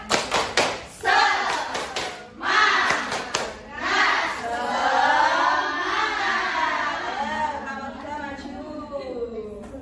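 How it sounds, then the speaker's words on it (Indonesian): A classroom group of children claps a quick rhythmic spirit clap in short bursts of sharp claps mixed with thumps, chanting along in unison, then switches to loud sing-song chanting. "Sebelum kelompok 3 maju kita kasih tepuk semangat dulu yuk."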